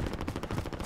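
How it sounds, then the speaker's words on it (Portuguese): Automatic gunfire crackles from a video game in quick rapid bursts, rattling along at moderate volume for under a second with no voices over it. "Tem alguém atirando ali, ó."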